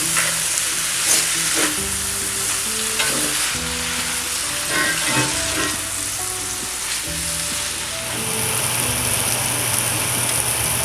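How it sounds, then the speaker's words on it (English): Mushrooms and onions frying in a pan while being stirred, a loud steady sizzle broken by scraping and clacking of the spoon against the pan. "I'm going to give that a mix."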